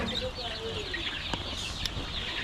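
Chickens inside a poultry house in Addis Ababa, clucking and murmuring steadily as a flock, with a few brief sharp calls over a continuous background hum.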